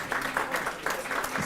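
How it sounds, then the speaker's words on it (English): An audience applauds at a textiles and manufacturing partnership launch, a brief burst of clapping heard fairly close and moderately loud. "Let's clap for the launch"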